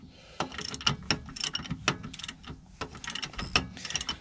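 A torque wrench ratchets in quick bursts of sharp clicks while tightening a rear shock absorber bolt on a Volvo V70, close and crisp, with short pauses between strokes and no talking.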